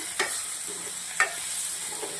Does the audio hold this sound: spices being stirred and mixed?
yes